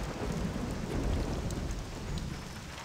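Steady, dense rain and a low thunderstorm rumble from the Mafia video game fill the scene continuously at moderate loudness, with no voices over it.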